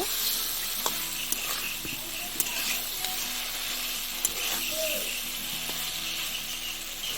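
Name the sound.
frying fish being stirred into spice masala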